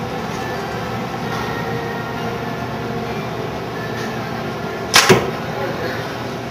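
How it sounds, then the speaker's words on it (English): An arrow shot from a bow through a sheet of paper for paper tuning gives a sharp, quick double snap-and-thwack near the end, standing out loud and brief against a quiet background hum. "let me shoot through this paper."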